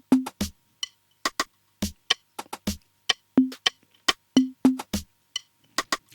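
A simple FL Studio percussion loop repeats crisp rim clicks with supporting rim layers over short, thumping low hits in a busy syncopated pattern, dry and close with no voices.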